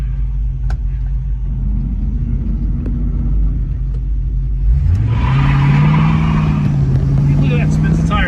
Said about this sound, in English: Let's try an acceleration.